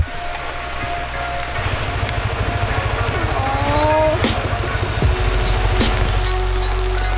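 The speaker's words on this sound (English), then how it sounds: "Raining again." Heavy rain downpour drumming steadily outdoors near a waterfall, a dense continuous hiss with an engine-like rumble beneath and a few brief sharper sounds.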